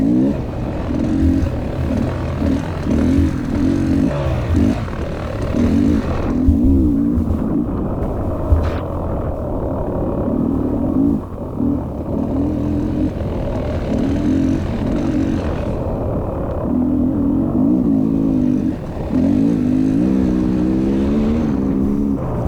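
A 2023 Beta Xtrain dirt bike engine revs and bogs during a muddy hare scramble in a rainstorm, a loud, close, continuous drone that rises and falls with the throttle, with no talking.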